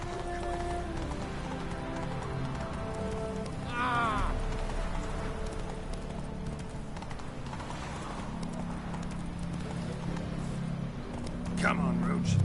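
Galloping horse hooves clip-clop steadily in The Witcher video game, a continuous rhythmic gallop with a brief whinny partway through, heard under game music and ambience, with someone talking over it.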